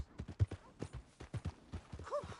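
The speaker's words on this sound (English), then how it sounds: "My horse!" Video game horse hooves clip-clop in a quick, uneven trot, close and distinct, with a brief whinny-like tone near the end.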